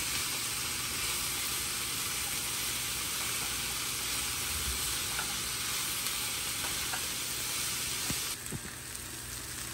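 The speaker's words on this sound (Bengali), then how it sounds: "মাঝে মধ্যে আমি নেড়ে দিচ্ছি এইভাবে।" Long beans with grated coconut frying in a pan, a dense continuous close sizzle broken by a few light stirring scrapes, with no talk.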